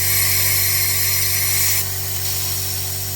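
An air compressor drones steadily with a high, hissing boost leak from a 1.9 TDI engine layered on top, the hiss loud and constant before dropping somewhat partway through.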